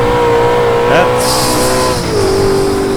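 Ultima GTR tires squeal in a high, sustained screech over the loud, steady drone of the car's engine, with a brief gear or rev change partway through.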